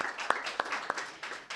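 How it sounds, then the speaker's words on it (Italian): A conference audience claps for the production crew, a brief spatter of applause with a few sharper distinct claps standing out near the microphone. "Un applauso alla regia."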